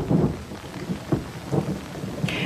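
Heavy rain falls steadily with a few dull, rumbling thumps rising and fading, a soft, dense wash with no voices.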